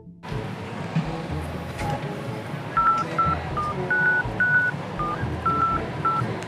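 A phone keypad beeps as a number is dialed outdoors in a busy public fashion street area, about eight short touch-tones in an uneven rhythm over crowd noise.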